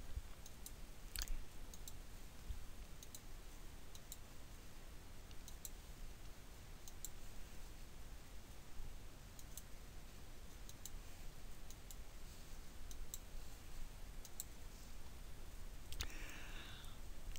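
A computer mouse clicks now and then during design software work on an embroidery hoop layout, a handful of sharp, faint, isolated taps spread over quiet room hiss, with no voices.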